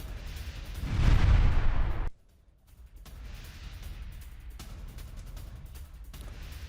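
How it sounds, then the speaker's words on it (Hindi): Air strike explosions in southern Lebanon are heard in news footage: a heavy, deep rumbling blast swells and then cuts off abruptly, followed by a fainter, lingering low roar. "IDF की एयर स्ट्राइक से दहला दक्षिण लेबनान"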